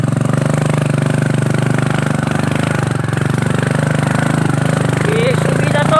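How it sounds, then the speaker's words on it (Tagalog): A motorcycle carrying two riders labours steadily uphill, its engine throbbing loud and close throughout with a strained, even drone, while voices speak over it. "No, di na dagan ang motor kay bugat kami duha."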